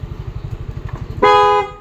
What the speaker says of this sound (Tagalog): Huwag mo masyadong didiinan ang busina.